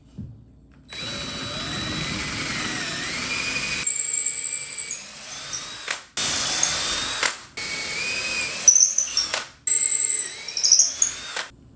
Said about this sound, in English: I'm gonna put the 5/16 bit in there.